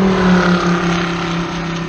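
Race cars run qualifying laps at Road Atlanta during the Petit Le Mans, their engines droning loud and steady with a sustained tonal whine, suggesting cars passing at moderate distance, with no voices.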